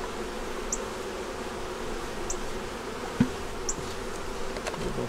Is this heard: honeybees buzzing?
yes